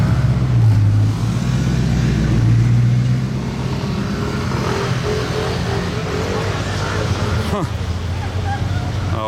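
Supercars pull away together toward Cannes, escorting a Bugatti Chiron, with loud overlapping engine drones, a rising rev early on and a continuous close rumble of traffic.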